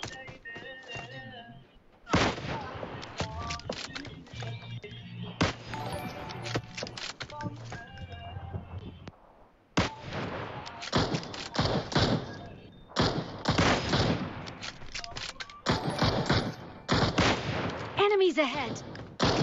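Gunfire from the mobile battle royale game PUBG Mobile comes in repeated heavy bursts and thumping single shots, loud and close, broken by short pauses, with players talking throughout.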